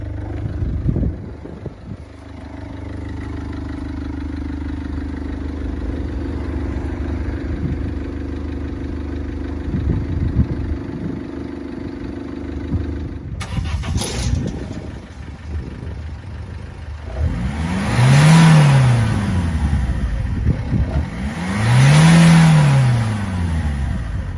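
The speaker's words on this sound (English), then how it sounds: "it sounds like a diesel and pretty much doesn't smoke at all" A car engine treated with fuel system cleaner idles steadily with a diesel-like clatter, then after a brief pause revs up twice in rising and falling swells, loud and close with no talk.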